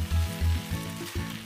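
Fried rice with bacon crackles and sizzles in a hot pan, a short close burst of frying with faint stirring scrapes.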